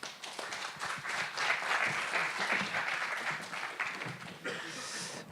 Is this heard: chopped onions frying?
no